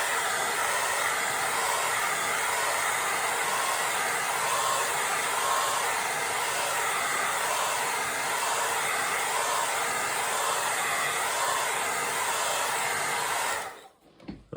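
A hair dryer blows steadily on a watercolor painting to dry the area to be signed, a loud, continuous broadband whoosh with slight wavering that cuts off abruptly near the end.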